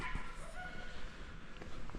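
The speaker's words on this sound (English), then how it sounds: "this dog's barking" A dog barks somewhere in an outdoor seaside camping area, faint and intermittent within steady background noise, with no talk over it.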